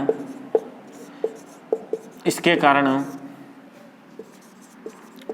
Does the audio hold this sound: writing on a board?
yes